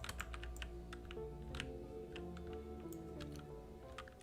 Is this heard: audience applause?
no